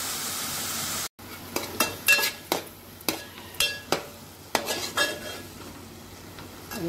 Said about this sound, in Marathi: थोडा वेळ असं परतून देऊया आपण।